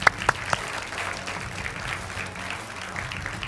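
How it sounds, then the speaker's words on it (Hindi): A TV debate studio audience applauds to welcome a JD(U) politician, a dense steady patter of clapping after a few sharper claps at the start, moderately loud with no voices. "ताली बजाइए भाई"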